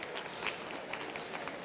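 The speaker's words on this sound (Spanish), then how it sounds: "un aplauso para todos estos chicos, por favor" Audience at a school talk on entrepreneurship and soft skills applauding a group of children, a quiet, diffuse patter of clapping with a few sharper claps, fairly distant.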